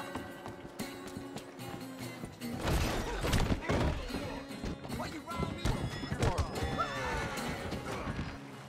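In Red Dead Redemption 2, hooves clatter and thud on a hollow wooden dock while a horse whinnies loudly, with a crash and game music in the background.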